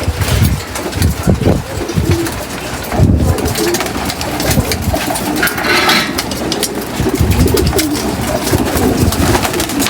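Pigeons kept in a loft cooing continuously, several overlapping throaty calls close by, with a few light clinks and some background hum under the birds.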